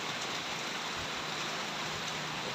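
Rain falls steadily, a soft dense hiss of drops on surfaces, even and unbroken, with no one speaking.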